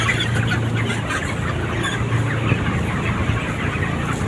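Chickens at a Thai poultry pen, including a large 2.3 kg bird, cluck steadily through a dense, continuous farmyard din with no talking.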